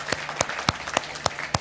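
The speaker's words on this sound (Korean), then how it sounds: "우리 박수로 한번 따뜻하게 환영하도록 하겠습니다." A church congregation claps warmly to welcome members at a Sunday worship service, with about six sharp, evenly spaced claps standing out loud and close over a softer bed of applause.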